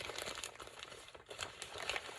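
Plastic bag crinkling during a beauty-product unboxing, a steady close run of rustling, crackling handling noise with small irregular bursts throughout, no talking over it.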